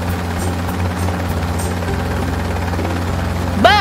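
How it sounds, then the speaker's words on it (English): A helicopter flying away makes a steady thrumming rotor drone that fills the clip at a constant loud level, ending with a brief rising whine. "Look at the helicopter fly away!"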